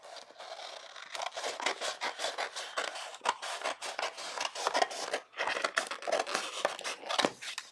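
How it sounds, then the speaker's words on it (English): Scissors snip through a sheet of infusible ink transfer paper in a quick, uneven series of close crisp cuts with rustling paper between them. No one speaks. "So I'm going to cut, just with my scissors, this off because then I could reuse this."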